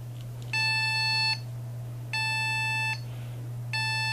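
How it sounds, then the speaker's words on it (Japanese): A motherboard's beep speaker on a B560M board sounds three long, high, steady beeps at power-on, a memory error code with no RAM installed, evenly spaced over a constant low electrical hum. "この3階のビープ音"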